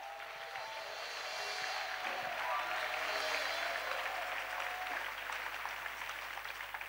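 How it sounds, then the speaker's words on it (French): Sustained applause from a church audience during a bilingual French-English intercession service, a steady even wash of clapping lasting throughout, fairly distant and moderately loud, with no speech over it. "Clap."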